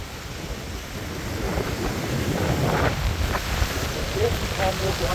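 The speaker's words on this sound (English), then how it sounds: "Now, you're going to pick up a lot of wind here, and I apologize for that." Strong wind buffets the microphone beside a lake at a park, a continuous rough roar that swells louder after the first second, with faint lapping waves beneath.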